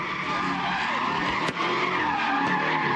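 Tires skid and squeal continuously as a car spins donuts at a youth street takeover in Oakland, a loud, sustained screech with engine roar and a brief sharp pop partway through.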